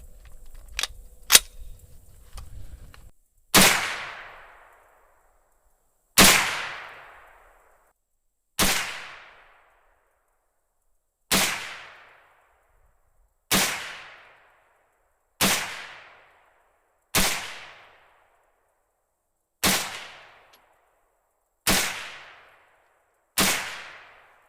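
A Savage Arms A22 .22 WMR Magnum semi-auto rifle fires ten loud, sharp shots at a slow, steady pace outdoors, each crack trailing off in a short echo, with a couple of faint mechanical clicks beforehand.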